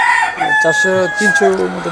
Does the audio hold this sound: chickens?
yes